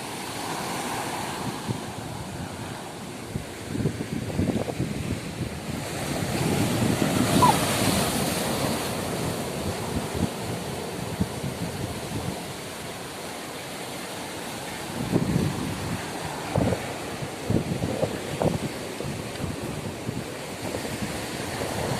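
Heavy surf from a rough sea pounds steadily on Ezhara Beach in Kannur, Kerala, waves surging and breaking in rolling swells under gusty wind noise.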